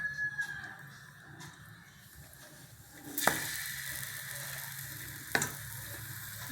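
Bread soaking in batter sizzles faintly as it fries in oil in a pan, a soft steady crackle broken by two sharper clatters of the pieces going in.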